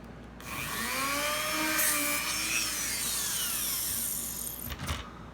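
A power drill bores a pilot hole into the wood of a swing gate, its motor whining steadily with rising and falling pitch for several seconds before stopping abruptly.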